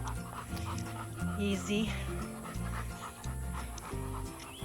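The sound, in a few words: trail dog panting on a steep downhill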